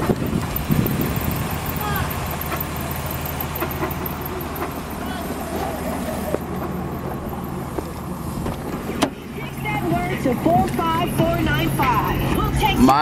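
A 1998 Nissan Maxima with 176,342 miles idles steadily nearby, a low continuous engine hum under a voice, with a brief clunk partway through and outdoor background noise.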